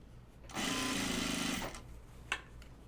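A sewing machine stitching a fold of fabric down in one close, steady burst of rapid whirring lasting about a second, followed by a brief click.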